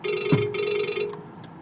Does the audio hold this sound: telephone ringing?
yes